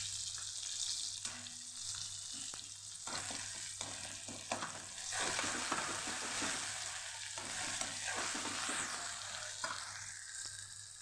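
A paste sizzles and spits steadily in a hot pan, with a spatula stirring and scraping throughout over a low constant hum.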